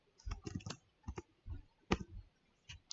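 Keys on a computer keyboard are tapped in short, irregular bursts of close, crisp clicks as PID is typed into a software library search, with brief pauses between the strokes.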